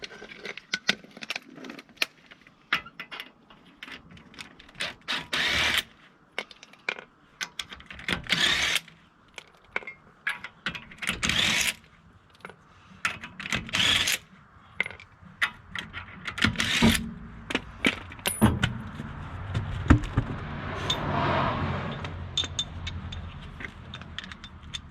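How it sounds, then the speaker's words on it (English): Wheel coming off a 10th-generation Honda Civic (2014–2020) during a front brake job, with repeated metallic ratcheting, clanks and jangling of tools and lug hardware, close and uneven, in bursts over a steady background. "I'll get this wheel off and continue on with the steps."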